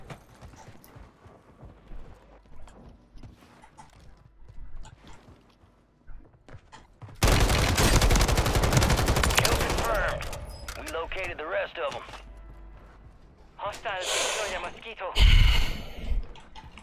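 Sustained LMG fire from a TAQ Eradicator in Warzone: quiet game sounds and speech at first, then a loud continuous burst of automatic shots for several seconds, followed by further bursts mixed with voices.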